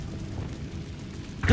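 The Incendio fire spell is cast in Hogwarts Legacy, a low rumbling whoosh of flame that swells and ends in a sharper burst, heard alone.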